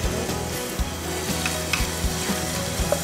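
Oil sizzling steadily in a frying pan during home cooking, with soft scraping and stirring knocks from a utensil in the pan.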